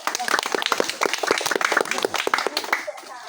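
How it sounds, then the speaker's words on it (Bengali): An audience claps for a third-place winner of a rope-and-ball soft drink challenge game, with quick overlapping hand claps mixed with people talking nearby. "এই ওর জন্য হাততালি হয়ে যাক"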